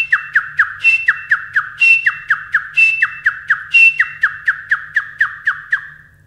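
A human voice imitating the call of the tittir, a partridge, in a fast run of repeated sharp squawking whistles, about twenty evenly spaced notes with a few longer ones mixed in, loud and close, fading at the end.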